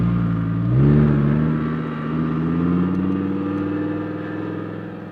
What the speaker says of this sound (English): we have Choi in the Huracan with a crazy wing.